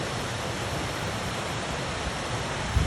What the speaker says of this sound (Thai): เพื่อนชมน้ำตกนะเจ้าเพื่อนจ๋า อ่ามันก็จะไหลลงไปสู่ทะเลนะเพื่อนเด้อ